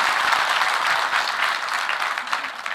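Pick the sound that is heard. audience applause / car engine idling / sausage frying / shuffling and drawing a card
audience applause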